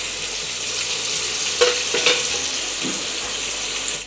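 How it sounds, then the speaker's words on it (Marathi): Paneer pieces frying in a pan make a steady, moderate crackling sizzle throughout, with a few soft clinks of a utensil against the pan near the middle. "वरतून पनीरचे तुकडे टाकणार आहोत, फ्राय करत आहे"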